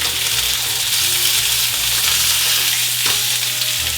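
Quails frying in a hot pan, a steady close sizzle and crackle with a brief clatter near the end.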